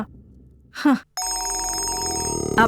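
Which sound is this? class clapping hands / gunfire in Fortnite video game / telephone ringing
telephone ringing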